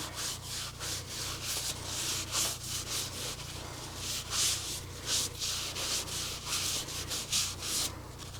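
Repeated rhythmic sanding strokes against a wooden bowl spinning on a lathe, a raspy scratching that rises and falls over a steady low motor hum.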